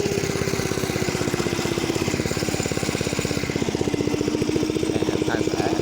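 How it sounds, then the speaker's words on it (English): A small mini bike engine runs steadily with a rapid, even putter, loud and close throughout, with faint voices in the background. "Here's a motorcycle I was racing."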